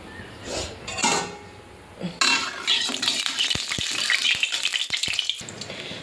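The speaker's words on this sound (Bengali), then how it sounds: "এবারে তেল দিয়ে মাছগুলো ভেজে নেব" Hot oil in a heated wok sizzles and crackles steadily as fish fries, after a quieter start, with a few sharp metallic clinks and taps scattered through the frying.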